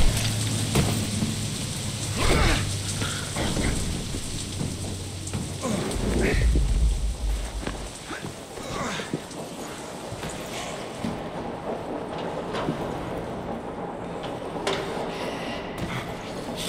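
Stormy weather in the video game DeadLight: steady rain hisses on surfaces while low thunder rolls and rumbles through the first half, easing into continuous rainfall with scattered drips and patters.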